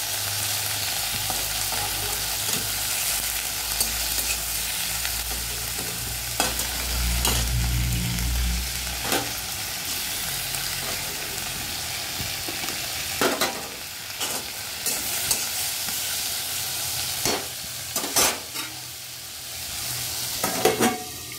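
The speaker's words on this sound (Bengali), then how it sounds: "পটলগুলো ভাজা হয়ে গেছে" Pointed gourd (potol) sizzling in hot oil in a pan with turmeric and potato, a steady frying hiss broken by repeated sharp scrapes and clinks of a spatula stirring, close and fairly loud, with no talking.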